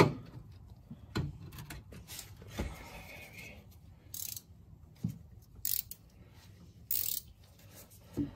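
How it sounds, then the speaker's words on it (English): Ratcheting 14 millimeter wrench turning a bolt during Honda Civic trailing arm bushing work, a quiet close-up series of uneven ratchet clicks and metallic ticks with pauses between strokes. "take a ratcheting 14 millimeter wrench"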